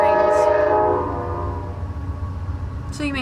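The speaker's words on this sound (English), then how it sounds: "So we live by trains now, where we moved." A train rumbles close by while its horn blares in long, steady tones, with the harmonic blast fading under the continuing roll of the cars.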